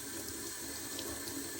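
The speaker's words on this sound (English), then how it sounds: "So we just have running water here," Tap water runs steadily into a sink for washing farm eggs, a constant hissing splash heard close by without talk.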